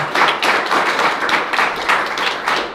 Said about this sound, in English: How about a round of applause for that mission?